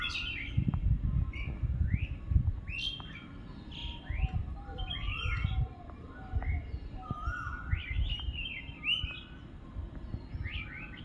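Several birds call and chirp in short, bright phrases scattered throughout, over a steady low rumble of background noise, with no talking.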